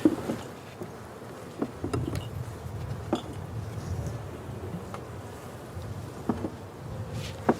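Honey bees in an opened hive during early-spring feeding hum in a low, continuous buzz nearby, broken by occasional clicks and knocks from the frames being handled, with no talk.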